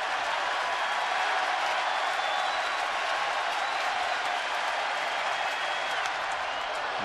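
A baseball stadium crowd cheering during a game, a steady, dense roar of many voices that holds at an even loudness throughout, with no single voice standing out.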